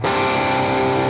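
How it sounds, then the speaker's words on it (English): A single sustained, distorted electric guitar chord rings out through a Hughes and Kettner crunch amp model, loud and steady for about a second with no voices. "Moving on to the H and K crunch."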